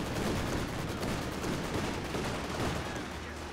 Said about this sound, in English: Machine gun here. It's pressing the Maxim.